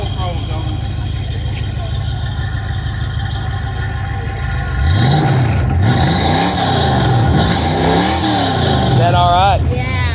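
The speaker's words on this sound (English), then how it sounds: "Could you give it some throttle?" Ford Mustang with bolt-on modifications at an outdoor car show, idling then revving up in rising and falling throttle blips, loud and close, with people talking nearby.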